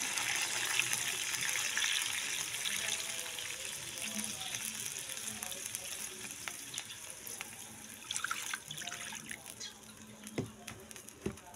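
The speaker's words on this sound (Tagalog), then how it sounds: "pwede na po natin siyang lagyan ng water. Malinis na tubig para gawing sabaw." Clean water poured into a pot of chicken tinola to make the broth, a steady hissing gush that tapers into lighter splashes and trickles, fairly quiet and heard alone.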